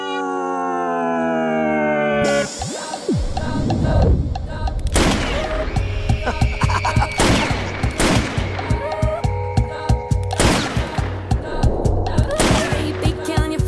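Bursts of gunfire in a Hindi film scene with Shahid Kapoor, Kriti Sanon and Rashmika Mandanna, loud repeated shots and volleys over a music score, following a howling, dog-like cry at the start.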